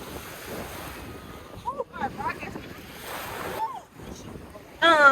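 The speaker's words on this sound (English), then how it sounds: "The waves is definitely coming in." Ocean waves surging in at a beach on a cold, windy day, a steady rushing wash with wind buffeting the microphone, while people talk and exclaim over it.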